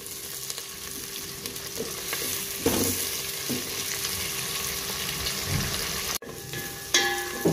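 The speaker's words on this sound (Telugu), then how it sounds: "కట్ చేసుకున్న టమాటా ముక్కలు వేసేస్తున్నాము వీటిని కలుపుకుంటూ టమాటాలు మగ్గేంత వరకు మరో 2 నిమిషాలు ఫ్రై చేసుకుందాము" Chopped tomatoes stirred and fried in a pan for egg pulao, a steady bright sizzle with spoon scrapes and clacks throughout, brief cut near the end.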